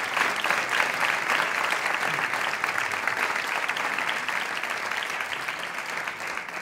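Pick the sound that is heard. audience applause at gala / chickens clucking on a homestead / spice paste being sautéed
audience applause at gala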